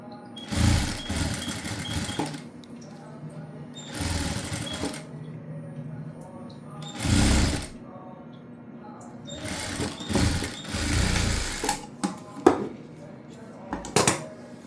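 A sewing machine stitching a blouse lining, running in several short loud bursts separated by pauses filled with faint handling clatter.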